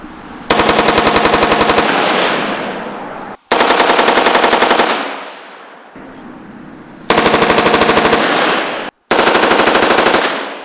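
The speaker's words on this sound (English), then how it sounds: "we will see how much of difference there is in rate of fire between two setups" A SIG MCX rifle fires four long full-auto bursts outdoors, each a loud, rapid, evenly spaced string of shots, with brief pauses and echoing decay between bursts.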